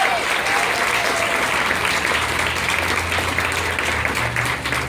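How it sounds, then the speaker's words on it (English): An audience honoring a medical team breaks into steady, full applause, many hands clapping evenly throughout with a low hum underneath and no speech. "Let's give them a great applause."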